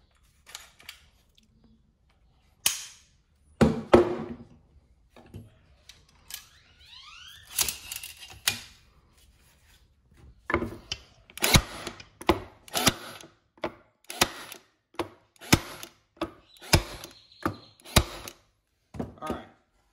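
Cordless battery stapler firing staples, heard as sharp close snaps, a few spaced shots at first and then a quicker series of loud clacks, with some handling noise between them.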